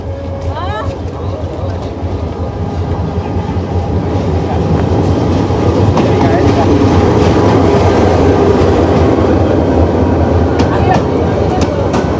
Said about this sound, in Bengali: দেখতেই পাচ্ছেন আমাদের ভৈরব যাওয়ার ট্রেনটি চলে আসছে